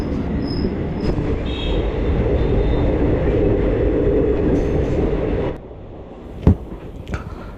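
A passenger train from Chamarajanagar to Mysore rumbles steadily on its tracks with a loud, continuous roar and faint squeals, then the noise drops off, leaving a couple of sharp clanks.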